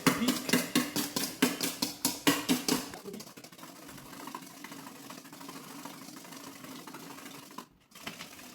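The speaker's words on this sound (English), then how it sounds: "we're gonna whisk it now, finish whisk it to a stiff peak" Brisk whisking of an eggnog mixture with brown sugar toward stiff peaks, heard as a fast, loud, rhythmic clatter of a whisk against a bowl for about three seconds, then a quieter steady scraping.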